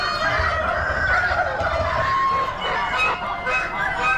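A mixed laying flock of chickens at a busy Amish spring animal auction, sending up a continuous dense chorus of clucks, squawks and honk-like calls that carries steadily throughout with no pause.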